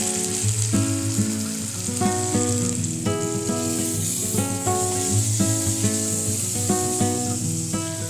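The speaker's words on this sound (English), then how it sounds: "I'm going to flip it and flip it and flip it so that it gets nice and seared on all sides." Prosciutto-wrapped pork loin sears loudly in a hot pan, a steady dense sizzle with crackling spits running through, close and continuous with no talk.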